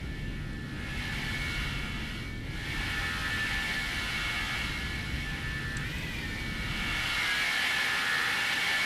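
Jet engines of a FlightFactor Boeing 757-300 heard from outside in the X-Plane 12 simulator, a loud, steady turbine roar with a high whine whose pitch shifts slightly, continuous and without voices.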